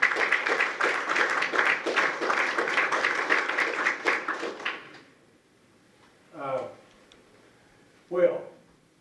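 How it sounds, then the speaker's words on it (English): A town hall audience applauds steadily for about five seconds, then the clapping stops and two brief voices or sounds follow in the quiet. "we could give you a big round of applause"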